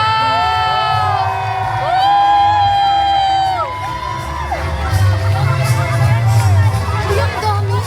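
Large crowd cheering, screaming and whooping at a university event in a big venue, loud and sustained over eight seconds, swelling with shrill shouts amid dense babble and bright tonal sounds.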